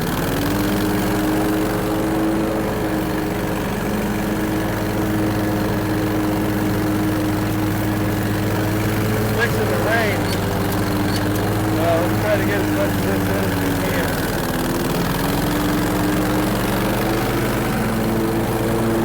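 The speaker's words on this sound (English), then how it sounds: "I'm able to mow most of this" Lawn mower engine cutting through thick, muddy grass, a loud, steady drone that dips and recovers as it works the heavy growth, close by throughout with no pauses.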